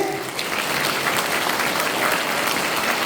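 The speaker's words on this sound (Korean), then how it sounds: "우리 힘찬 격려의 박수를 부탁드립니다" Sustained applause from an audience at a Korean rally against election fraud, dense steady clapping filling the whole stretch at even loudness, with no voices standing out.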